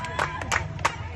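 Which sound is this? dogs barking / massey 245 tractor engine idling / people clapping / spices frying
people clapping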